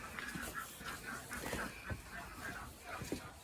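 Several ducks quack in short rhythmic bursts, faint and a little distant, over a background of outdoor hiss with a hint of low voices.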